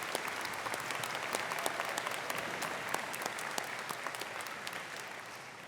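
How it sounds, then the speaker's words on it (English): An audience at a SUNY Fredonia commencement ceremony applauds steadily, dense even clapping from a large crowd heard at a moderate distance without voices. "Please give them a round of applause."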